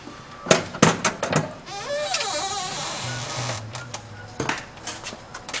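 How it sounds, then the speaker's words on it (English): The mechanism of a Rowe CD 100B CD jukebox loading a disc: a few sharp mechanical clacks, then a whirring motorized sweep and hum, ending with more clicks as the disc settles, no talking. "It's a very fast pickup. It drops it down, then the needle slides on it."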